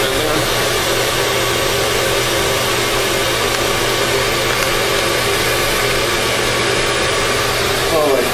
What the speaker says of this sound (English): Let me pop in the hair dryer real quick so you can see.